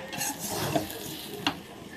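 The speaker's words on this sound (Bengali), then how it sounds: "আমার চাল ভাজা হয়ে গেছে" Rice frying in a pot for biryani is stirred with a utensil, giving a soft scraping sizzle with a couple of sharper clinks against the pot, close and steady.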